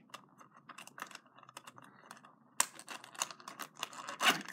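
A Shopkins Lil' Secrets locket case being snipped and its plastic top pulled off, giving close, quiet clicks, snips and crinkly plastic rustles in quick irregular bursts, growing louder toward the end.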